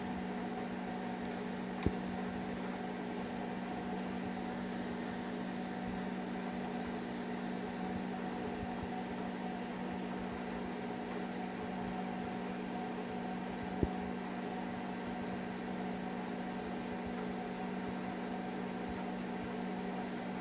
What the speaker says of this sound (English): No joke, this is a fork in a microwave